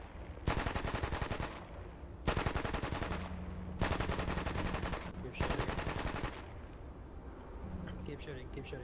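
Long machine-gun bursts in the Bellum game, four sustained rattling strings of rapid fire, each lasting about a second, loud and close with short pauses between, and a voice talking faintly underneath.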